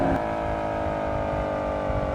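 A modded car engine in Assetto Corsa drones steadily as the throttle is released, a rough, buzzy tone that holds close and loud with a slight shift at the start.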